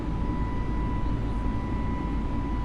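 A FlyByWire A32NX airliner climbs in Microsoft Flight Simulator, giving a steady deep engine roar with a constant high whine and no breaks or voices.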